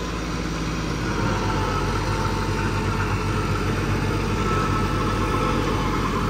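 A modified tractor driving a superseeder runs steadily at about 2000 rpm in first low gear while sowing wheat, its engine a loud, continuous, even drone with no voices over it.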